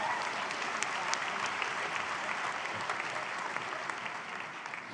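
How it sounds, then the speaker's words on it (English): An audience at a university convocation ceremony applauds; a broad, even wash of many hands clapping at moderate distance, steady throughout without voices. "I don't know if your parents started the applause there."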